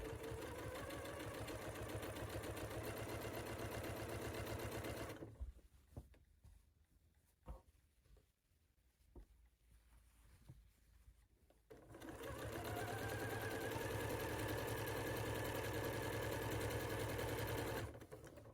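Close and steady, a sewing machine hums through a quilt seam for a rocky star quilt, starting with a backstitch, then falls quiet for several seconds of faint clicks before resuming a long continuous run.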